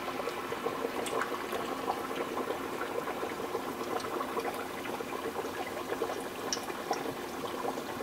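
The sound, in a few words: beer battered fish frying in hot grease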